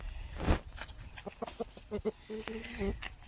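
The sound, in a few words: rooster and hens on a farm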